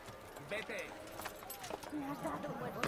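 Horse hooves clop in the Assassin's Creed video game on Xbox 360, a quiet, uneven trotting rhythm mixed with other game sounds and voices.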